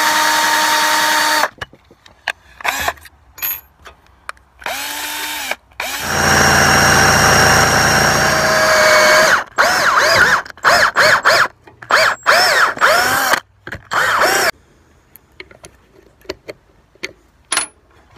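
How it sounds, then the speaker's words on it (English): Drill bores a pilot hole, starting small before a 5/16 bit, into a door for a new security lock. Several close, loud bursts of whirring, the longest lasting about three seconds, are broken by short pauses. "I can go ahead and drill this hole here out."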